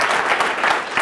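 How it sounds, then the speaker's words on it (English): Crowd applause at a bike summit keynote, a brief burst of dense clapping that fills the whole moment at even loudness. "a round of applause."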